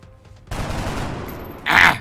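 Gunfire from the XCOM strategy video game comes as a sudden loud burst of shots followed by a sharp, bright crack near the end, with no talking.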